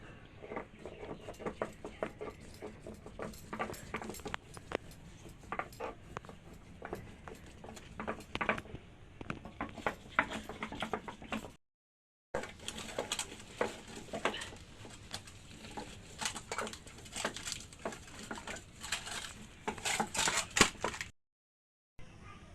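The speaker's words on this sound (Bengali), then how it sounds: "আদা জিরে একসাথে আমি বেটে নিচ্ছি।" Ginger and cumin are ground together by hand on a grinding stone, a steady close rhythm of rough scraping and rubbing strokes. The sound continues with two brief silent breaks.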